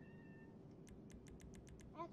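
A cat gives a short, close meow at the very end, preceded by a run of light, rapid clicks and faint tonal sounds early on, all fairly quiet.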